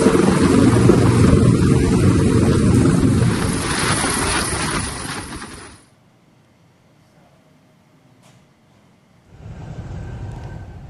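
Loud rotor and engine roar of a helicopter delivering flood aid close by, suddenly cutting off into near silence before a quieter engine drone returns.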